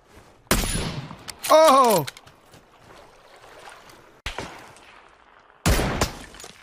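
Sniper rifle shots in PUBG, an M24 and Kar98k duel: three sharp, loud broadband cracks a couple of seconds apart, with a brief voiced exclamation in between.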